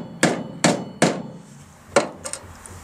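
Light hammer taps on a Mk3 Cortina Estate body panel: three evenly spaced metallic strikes, a pause, then one more tap and a quick double tap, close and crisp with no talking.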